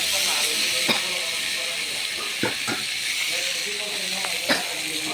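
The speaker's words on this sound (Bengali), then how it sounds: "এগুলো লাড়াচাড়া দিয়ে আপনি কষায়া নিতে হবে।" Vegetables stir-fried in a pan in a small kitchen behind a shop, a steady close hiss and sizzle with scattered scraping clicks of stirring throughout.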